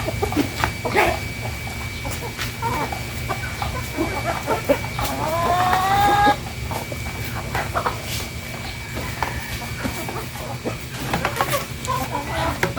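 Chickens cluck and squawk in a coop at feeding time, a continuous farmyard din with a dog barking now and then among the birds.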